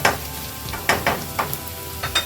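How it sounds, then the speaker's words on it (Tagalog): Ginger sautéing in an oiled pan for chicken adobo, a steady close sizzle broken by several short scraping stirs, with no talking. "we're gonna saute the ginger"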